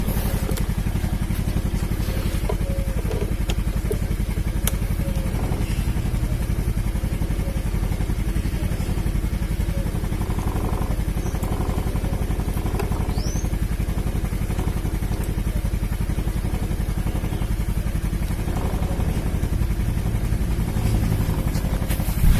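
A motorcycle engine idles during a charging-system test for a battery that keeps running flat, giving a steady, even drone with light mechanical clatter for the whole stretch and no talk.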